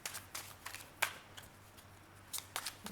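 Soft, quiet riffling and snapping of cards in scattered bursts, close by, with no talking.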